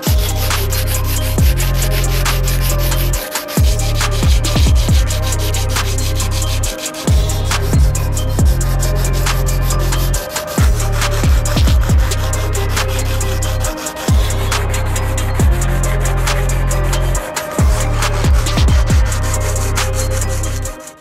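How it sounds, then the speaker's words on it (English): An 80 grit sandpaper on a sanding block scrubs a widebody car panel bond in loud, close, rhythmic back-and-forth strokes with short pauses between passes, continuing steadily throughout with no talking. "we're gonna be using a sanding block and we're gonna start out with 80 grit sandpaper"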